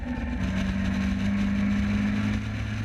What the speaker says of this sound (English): Lights out, lets out the clutch, blasts away, grabs second gear.